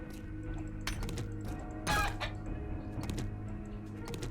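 A chicken in the zombie survival game 7 Days to Die gives a few short clucks over a low steady game ambience, with a brief louder rustle midway, fairly faint overall.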